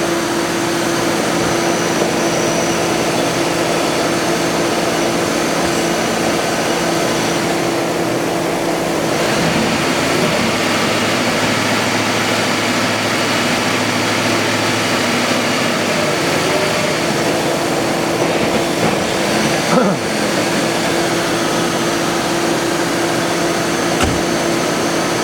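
A car engine fitted with a new replacement ignition coil after a misfire runs steadily, a close, even hum with no obvious stumbles for the whole stretch.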